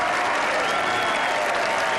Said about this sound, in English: Eduardo Romero milking the applause, and rightly so